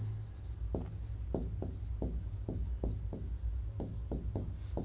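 A pen writes on paper in close, quiet strokes, with rhythmic scratches and taps repeating steadily over a low background hum.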